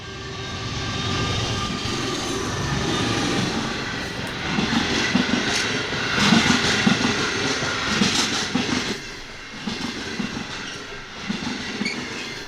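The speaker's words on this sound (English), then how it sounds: "Passenger train to Melbourne." A passenger train to Melbourne rumbles past at a steady distance, with clattering wheels and a broad engine roar throughout.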